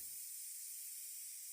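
A pressure cooker of dal with salt, spices, oil, turmeric, chilli and onion lets off steam on a gas stove, giving a continuous, even hiss that stays loud and unbroken throughout.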